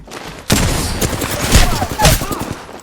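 Bursts of automatic gunfire in the Apex Legends video game, with a rapid fusillade starting abruptly and sustained loudly through the clip, with louder volleys surging near the middle and end.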